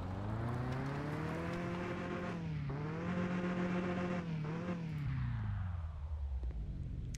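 A car engine in the Mon Bazou driving game revs hard while reversing, pitch rising and dipping in drawn-out surges, loud and close, then easing off toward the end.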